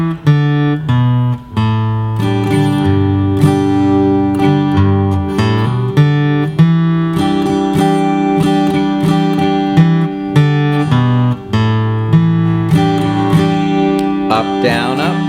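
An acoustic guitar plays measures 4 to 8 of a song: loud, close strummed chords and single-note riff phrases in a steady rhythm, played alone without any talking.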